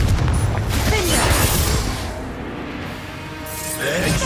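Explosive blasts from the Confringo fire spell in Hogwarts Legacy, a loud booming burst followed by a fading rumble and then a second blast rising near the end.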